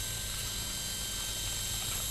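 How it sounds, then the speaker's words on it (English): A radio-controlled scale helicopter fitted with a DJI Wookong-S flight controller hovers in a test flight outdoors, giving a steady, faint whine and rotor hum that holds unchanged throughout with no talking. "let's fly the helicopter toward me a little bit."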